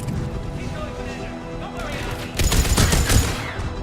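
Gunfire in the Mass Effect video game during a fight against turrets, a dense stretch of rapid shots and crashes that grows louder and busier after the first couple of seconds.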